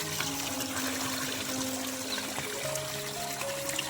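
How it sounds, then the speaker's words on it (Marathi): Water overflows from a cow-mouth spout at a village goddess temple, pouring and splashing steadily at moderate loudness, with faint tonal background sounds. "गायमुखातून पाणी बघा ओव्हरफ्लो होतोय"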